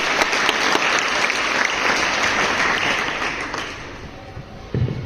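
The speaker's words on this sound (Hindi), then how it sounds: "तालियां बजाएं एक बार जोरदार।" A crowd at a university NSS Day celebration breaks into loud, dense applause that gradually thins and fades over several seconds, ending with a soft thump.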